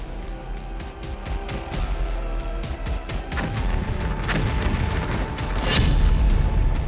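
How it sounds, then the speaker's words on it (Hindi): Bomb blast near Tehran, Iran, heard as loud rumbling booms with crashing impacts and dense low-end noise over several seconds, swelling toward the end. "ईरान में फिर से बम फटा है।"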